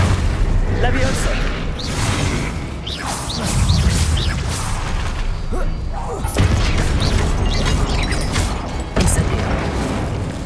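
Fire spells and other casting effects in Hogwarts Legacy give repeated booming whooshes and bursts of varying loudness over a dense battle soundscape, with no talk.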